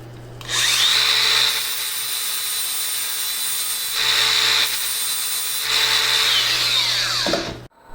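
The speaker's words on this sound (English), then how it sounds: "It's really hard to damage a drill bit when you're manually drilling it this way." A drill bit on a PrintNC CNC machine is fed by hand into steel, giving a loud, close, high-pitched whine that swells in three strong pushes over a constant motor hum before cutting off abruptly.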